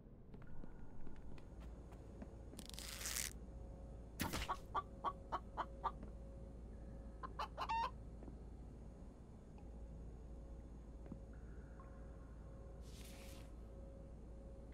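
Chicken clucking in a survival video game, a short run of close clucks and calls standing out from a quiet ambient background, with longer faint stretches between.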